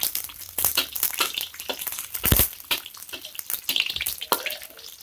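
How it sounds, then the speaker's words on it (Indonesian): Garlic is stir-fried in a pan for mie tek tek santan, a close, crackling sizzle with scraping and tossing noises, irregular and fairly loud. "Tumis bawang putih hingga berubah warna."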